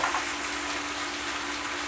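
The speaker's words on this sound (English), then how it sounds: "we're going to take a little bit of water and just kind of pour it over that pasta" Water is poured over cooked spaghetti for chicken lo mein, a steady close gushing hiss of running liquid that continues without pause.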